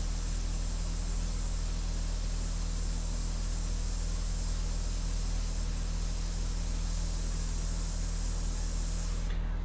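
An airbrush sprays India ink onto a vintage-style portrait, giving a steady, close, even hiss that runs unbroken and alone before cutting off right at the end.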